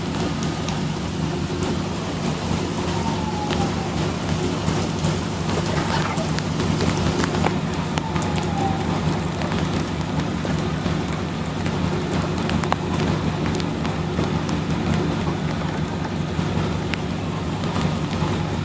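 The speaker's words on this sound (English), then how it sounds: "Well, it started raining" Steady rain pours down over a driveway gate in University Park, Texas, a dense, continuous hiss with scattered drops striking nearby surfaces throughout.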